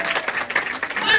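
A crowd claps in a brief, busy burst of applause, with a voice faintly audible through the clapping.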